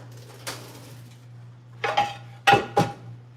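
Kitchen utensils and a gravy pot being handled, a few separate metallic clanks and clinks, one soft knock followed by a quick cluster of sharper rings, close by with a low hum underneath.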